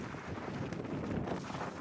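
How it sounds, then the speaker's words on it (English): Wind gusts rush in through an opened office window on a rainy day, a steady broadband buffeting roar that fills the whole moment, close and fairly loud with no speech. "Oh, it's windy when you open that."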